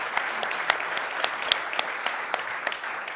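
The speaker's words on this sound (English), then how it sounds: "Please give them a big round of applause." An audience at a press event for a DC and NFL RFK Stadium deal gives a big round of steady, close applause, with a few sharper claps standing out and no talk over it.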